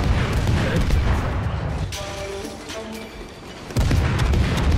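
Heavy booming naval gunfire from destroyers in World of Warships, loud deep blasts at the start and a sudden fresh salvo near the end, with quieter rumbling and a faint musical tone between them.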